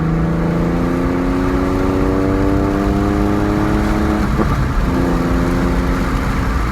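Porsche with a sports exhaust, heard from inside through an open window, loud and steady with rising engine tones that dip and resume midway, alone without talk.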